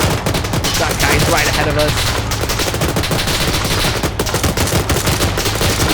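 Loud, sustained automatic gunfire rattles nonstop as soldiers fire at enemies in Arma 3 during an alternate-history Second Falklands War convoy, with someone talking over the shooting.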